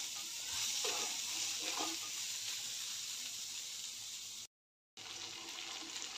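Ridge gourd vegetable steaming under a lid in a pan with garlic and ginger-garlic paste, a steady soft hiss and sizzle with faint bubbling, continuous and close, broken by a brief silent gap.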